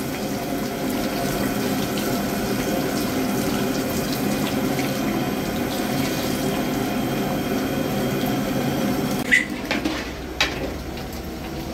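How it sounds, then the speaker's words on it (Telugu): Milk poured into a pan of bread halwa as the bread pieces soak up sugar syrup, a steady continuous pouring and bubbling wash, ending in a couple of short utensil clinks. "పాలు వేసుకోవాలి."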